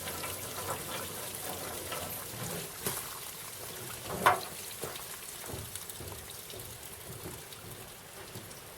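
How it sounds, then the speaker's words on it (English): Water trickles and splashes steadily close by as it drains from an engine hole on a 1917 Buick, with a few louder drips and knocks scattered through. "It's pure water coming out of there."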